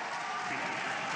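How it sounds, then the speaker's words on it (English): A tennis crowd cheers loudly and continuously at a 2020 exhibition match between Dominic Thiem and Andrey Rublev, a dense roar of voices and applause filling the whole moment. "Huge cheer."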